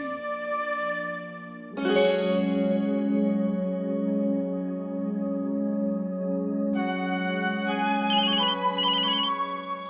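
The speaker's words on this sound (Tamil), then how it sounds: "அர்ச்சனா அப்பா ஃபோன் பண்றாரு." A phone rings with an incoming call, sounding a sustained melodic ringtone with layered tones and a few higher tinkling notes, moderately loud and steady, with no voices.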